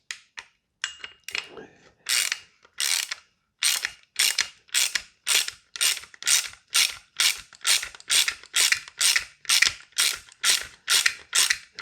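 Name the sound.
tightening down part on Airtac HYP-9 airsoft receiver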